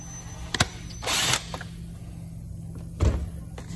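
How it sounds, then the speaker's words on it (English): An old Stihl 4-Mix trimmer throttle handle assembly is worked loose and slid off its shaft, giving a short scraping slide, a few sharp clicks and a final knock in a quiet room. "We're just going to loosen it up and just slide the old one right off the shaft."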